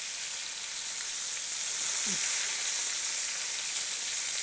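Flipped okonomiyaki fries on a hot griddle with a steady, bright sizzling hiss throughout, close and continuous, with no talking.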